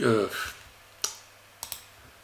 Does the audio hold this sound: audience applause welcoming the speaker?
no